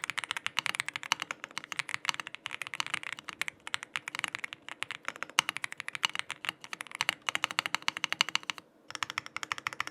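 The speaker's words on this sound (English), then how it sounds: "We're gonna do a sound test." Typing on a Womier RD75 Pro custom mechanical keyboard: a dense, fast stream of close, crisp keystroke clacks with brief pauses, heard alone and steady for about ten seconds.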